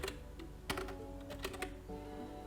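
A file name is typed on a computer keyboard, several sparse, soft key taps against a quiet background.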